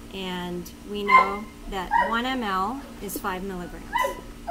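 A dog barks and yips outdoors in short, high, whimpering bursts, mixed in under a person talking steadily nearby.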